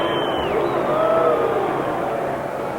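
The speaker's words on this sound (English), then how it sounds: "Now Ali is the recipient of boos from the crowd that cheered him as he entered the ring tonight." Large arena crowd booing at the 1970 Ali vs Bonavena heavyweight fight in New York, a steady dense roar of voices that swells slightly midway and holds throughout, with no clear speech.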